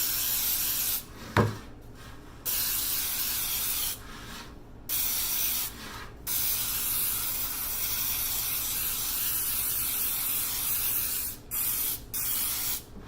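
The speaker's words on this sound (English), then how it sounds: "I'm going to spray it well with Baker's Joy" Several bursts of Baker's Joy baking spray hiss close by into a sheet cake pan, separated by short pauses, with no talking.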